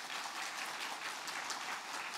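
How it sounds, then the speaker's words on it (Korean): A church congregation at a Sunday service gives a short burst of steady applause, fairly quiet and even, with no talk over it. "함께 좀 박수로 축복하겠습니다"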